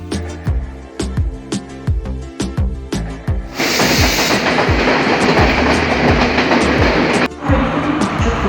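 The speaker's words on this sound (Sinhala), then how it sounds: "මං යනකොට ට්‍රේන් එක නම් ඇවිල්ලා" A train at a Colombo-area railway station, first with a rapid run of sharp rhythmic clacks, then a long loud steady hiss or rumble swamping everything for several seconds before the clacking returns, all close by.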